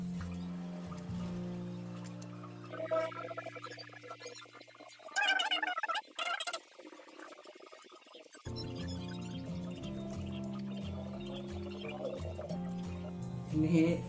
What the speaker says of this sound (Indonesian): Ditekan-tekan supaya dia airnya turun.